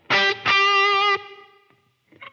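Two loud, distorted electric guitar notes through a Line 6 Helix with hall reverb ring out, the second sustaining and then fading into a lingering reverberant tail before a short quiet pluck.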